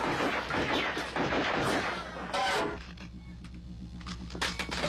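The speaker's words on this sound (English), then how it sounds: "Oh man, I shot Marvin in the face" A single sharp gunshot effect rings out loudly and is followed by a short decaying echo, with talking around it.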